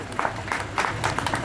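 Crowd applause at an outdoor protest sit-in at a bus stand in Sujangarh, welcoming a guest, with ragged bursts of clapping mixed in under a speaking voice.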